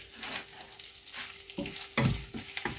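Onion, chili, curry leaves and cumin fry in a pan while being stirred, with soft sizzling and a few louder scraping stirs toward the end, no talking.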